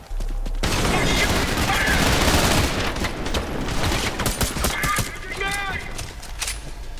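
Sustained automatic gunfire in Trepang2 rattles loud and close for several seconds, then thins into scattered shots and impacts, with a voice talking over part of it.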